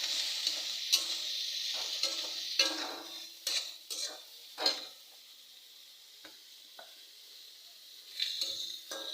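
Leafy greens frying in white oil in a pan give a soft background sizzle, with repeated scraping and stirring strokes against the metal and occasional clinks.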